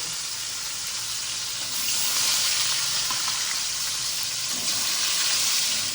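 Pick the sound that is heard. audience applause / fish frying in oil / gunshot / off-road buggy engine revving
fish frying in oil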